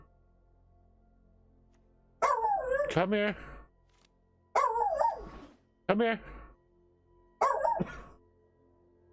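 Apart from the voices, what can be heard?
dog barking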